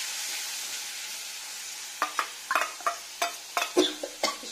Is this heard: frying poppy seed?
yes